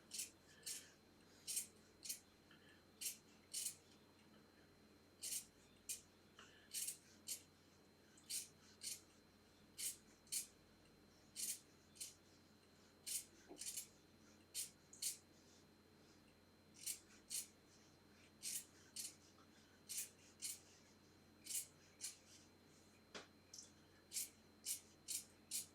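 Scissors trimming excess fabric close to stitching, making a long series of crisp, snipping cuts at an uneven pace, near and clear over a quiet room.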